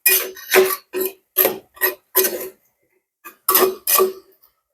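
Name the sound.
stirring food in a pan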